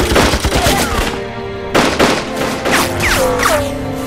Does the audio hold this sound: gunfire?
yes